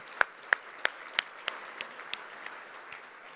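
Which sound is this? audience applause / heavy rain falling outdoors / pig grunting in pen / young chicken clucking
audience applause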